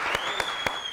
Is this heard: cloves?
no